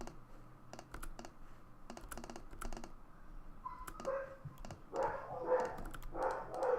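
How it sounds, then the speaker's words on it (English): Dogs bark somewhere in the house, muffled and fairly faint, in a few bursts toward the end, after a stretch of close, brisk computer-keyboard typing clicks. "the dogs are going to bark for a bit, so I'll mute"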